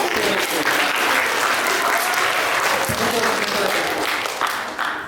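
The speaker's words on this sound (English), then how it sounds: "Give it a big round of applause." Children and staff at an elementary school chapel break into loud, continuous applause that fills the room evenly for the whole stretch, tapering slightly at the very end.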